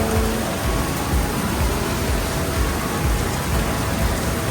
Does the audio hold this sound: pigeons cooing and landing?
no